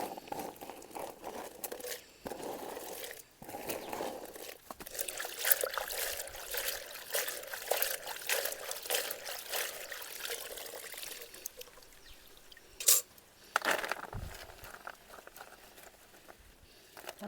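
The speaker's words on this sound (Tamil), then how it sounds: "இது கல்வாடு நம்ம நல்லா வாஷ் பண்ணணும்." Dried fish being washed in water by hand in a village kitchen, giving soft, continuous splashing, pouring and trickling with occasional louder sloshes, close and fairly quiet, with no talking.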